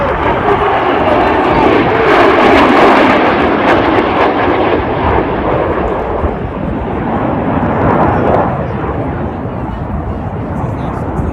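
A loud aerobatic jet roars overhead while flying an inverted barrel roll at the 2024 Gatineau-Ottawa airshow, a sustained engine rush swelling and then easing slightly, with a commentator talking over it.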